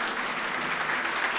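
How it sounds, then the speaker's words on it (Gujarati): A crowd at a gathering claps together, producing an even, sustained roar of applause throughout, with a faint voice barely audible beneath it. "આ તાળીઓનો નાદ તારા કાન સુધી જે પહોંચી રહ્યો છે"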